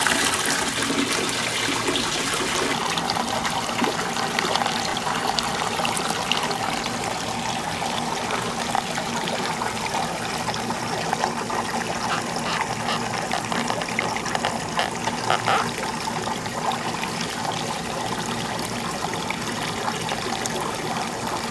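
Water flows steadily through a gold rush hydrodynamic model, a continuous rushing trickle that stays loud and even throughout.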